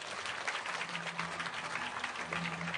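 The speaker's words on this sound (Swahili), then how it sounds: "Wakati unapotoka pale, naomba kwa heshima tuongeze yale makofi." Audience applause for a children's dance by kindergarten pupils at the 60th Kenya Air Force anniversary at Moi Airbase, steady and sustained throughout, dense clapping from a large crowd with no voices over it.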